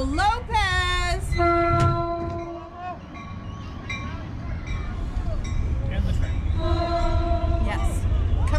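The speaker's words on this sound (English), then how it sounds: "Yes, accompanied by the train." A train passes near a baseball ballpark during a game, its horn blaring in repeated long blasts with a steady rumble underneath, fairly loud over the crowd ambience.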